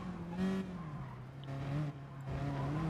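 Race car from Gran Turismo Sport coasting off the power through the 130R corner on a wet track with dry tyres, a steady droning engine tone with faint tyre noise, no talking.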